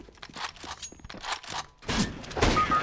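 Several sharp gunshots from a video game on the de_nuke map, in quick irregular bursts, with louder, denser firing toward the end.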